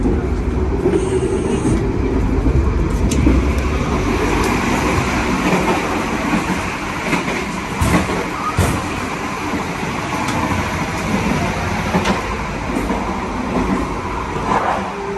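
Steady rumble and rattle inside the restaurant car of the moving Sancaka passenger train between Surabaya and Yogyakarta, with clacking wheels, occasional squeals and clanks, loud and continuous, no one speaking.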